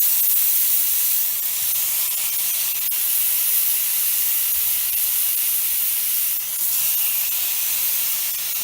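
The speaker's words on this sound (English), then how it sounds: "you can add it going into the frying pan here" Octopus sizzles and hisses steadily in a hot frying pan, a bright crackling spatter that continues throughout.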